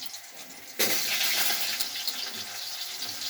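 Water drained off soaked soybeans in a home kitchen comes in as a sudden rushing splash after a quiet start, then continues as a steady pouring hiss.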